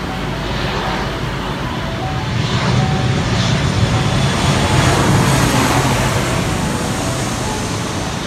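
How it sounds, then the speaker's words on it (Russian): Airplanes fly low over a hotel near an airport in Indonesia, giving a loud, continuous broadband roar that swells slightly and holds steady throughout, with no voices. "это самолет. И они сюда летели каждые 5 минут,"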